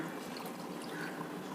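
Water poured into a grinder jar of chopped coconut, roasted mint, coriander leaves and salt for coconut chutney, a steady, soft, even rush of liquid that runs through the whole stretch.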